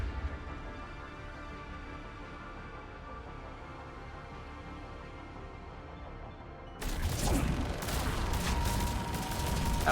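Gunfire and battle noise from the video game Mass Effect 3 on the Thessia mission, starting as a steady low rumbling din, then bursting at about seven seconds into a loud, dense barrage that continues to the end.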